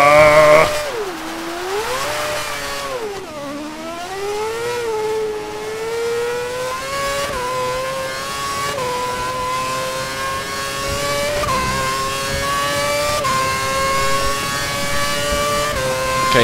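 A Formula 1 race car in Formula 1 2011 at the Shanghai circuit revs loudly and steadily, its engine note dipping briefly and then climbing through the gears in a sustained, close-up whine with no talk over it.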